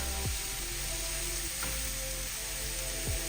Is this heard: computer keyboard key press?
no